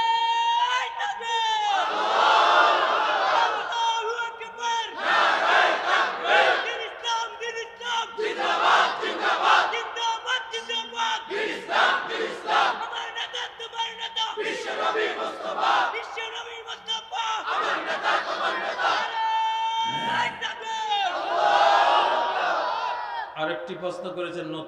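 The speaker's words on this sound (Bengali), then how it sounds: "দাও না স্লোগান জোরে সোরে।" A large crowd loudly chanting slogans at a gathering, with one leading voice calling out and the crowd answering in repeated rhythmic bursts, sustained and close.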